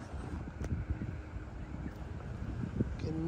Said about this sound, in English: It's windy, everything.